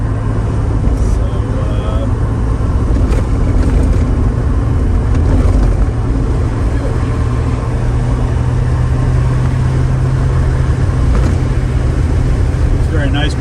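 A 1971 Mercedes-Benz 280 SL Pagoda roadster cruises on the road, heard from the passenger seat as a loud, steady engine drone with constant road and wind rumble throughout.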